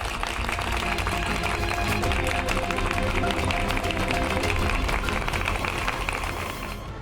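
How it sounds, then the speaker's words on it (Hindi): Enthusiastic audience applause after a dance performance on an Indian TV soap, dense continuous clapping from a crowd lasting several seconds, loud and close, with a voice faintly mixed in. "इस परफॉर्मेंस के लिए जोरदार तालियां।"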